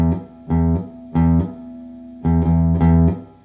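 An electric guitar plays parts 1 and 2 of a riff in a beginner guitar lesson. Nine clear, loud, low notes come in a syncopated bouncing rhythm, heard alone.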